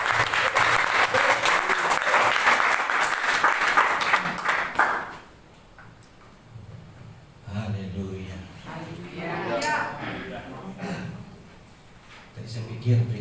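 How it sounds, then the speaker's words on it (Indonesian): A crowd at a church training session applauds to welcome a pastor, with loud steady clapping for about five seconds that then fades into quieter room sound and talk. "kita panggil Pastor Kristo, kasih tepuk tangan."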